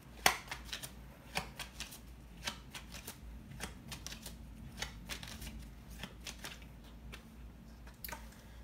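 Tarot cards being shuffled by hand, a soft run of quick papery riffles and flicks with a few sharper snaps, close and continuous, with no voices over it.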